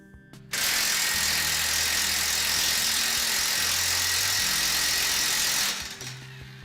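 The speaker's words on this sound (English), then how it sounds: "I'm going to use the electric impact wrench to move that a little bit more" An electric impact wrench hammering on a ball joint nut of a Hyundai Santa Fe, one sustained loud rattling burst of about five seconds, close up, starting abruptly and winding down at the end.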